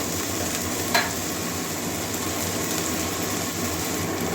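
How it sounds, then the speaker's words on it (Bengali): Ginger garlic paste fries in a pan for a kachki fish curry, making a constant dense hiss and sizzle close by with one brief faint clink and no voices. "এর সঙ্গে আদা রসুন আছে এটাও কাঁচা গন্ধ দেওয়া পর্যন্ত ভেজে নেব"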